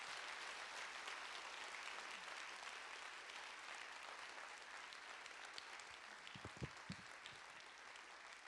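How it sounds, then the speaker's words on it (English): A round of applause at a talk: a dense, continuous wash of many hands clapping, faint and even, with a few louder low thumps near the end. "Let's give him another round of applause."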